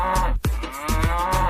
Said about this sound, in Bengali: দুষ্টু গরু ডাকে রে